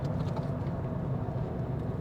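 A Mitsubishi Colt heard from inside as it accelerates, a steady low engine drone with road rumble holding level throughout.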